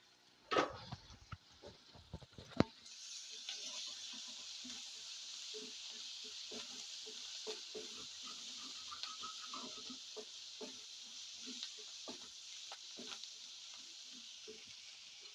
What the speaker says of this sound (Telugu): మనకు ఉల్లిపాయలు అయితే వేగిపోయాయి